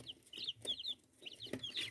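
Brahma chicks peep in rapid, high-pitched bursts inside a warm brooder under heat lamps, several chirps overlapping and repeating close by with no talking.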